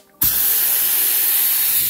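Harbor Freight spray gun blasting metal flake paint: a sudden onset of loud, steady, close hiss that holds unbroken after a brief quiet start.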